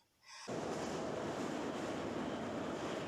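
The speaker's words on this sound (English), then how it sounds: "So here we are in the metro, going to the dentist." A metro train runs through an underground tunnel, its noise rising quickly into a loud, steady roar of rumble and hiss that continues unbroken, with no one talking.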